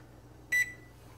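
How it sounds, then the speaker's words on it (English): A timer on a kitchen oven gives a single short electronic beep as it is set to one hour, close and clear over faint room hum. "Set timer to 1 hour."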